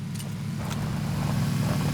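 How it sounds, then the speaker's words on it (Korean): A vehicle in the PUBG (Battlegrounds) video game approaches as a steady, low engine drone that holds evenly throughout, with no talk over it. "차 소리 들리는데?"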